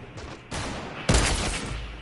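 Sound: sniper gunfire in a video game

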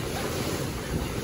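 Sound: ocean waves at a windy beach

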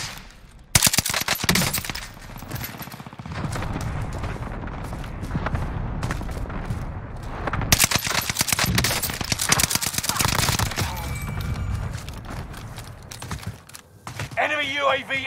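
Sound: gunfire from the video game Call of Duty Warzone

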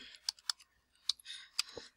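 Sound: typing on a computer keyboard

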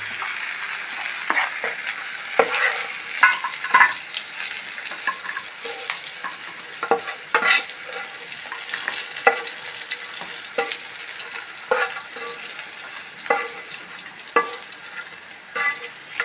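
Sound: onion and chili mixture frying in a pan

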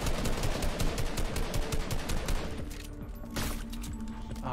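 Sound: gunfire in a battle royale video game (Floor is Lava)

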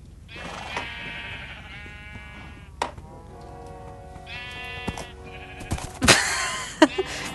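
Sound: sheep bleating in the video game Minecraft

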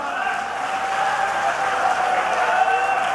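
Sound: audience applause at mushaira

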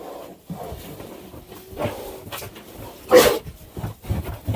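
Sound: piglets squealing with bark-like sounds while playing

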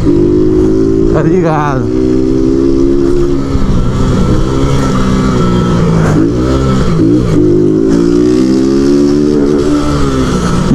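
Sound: motorcycle riding and shifting through gears

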